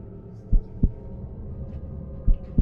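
Heartbeat sound effect, slow low thumps in pairs, deep and muffled over a faint steady hum, with a gap between the two pairs of beats.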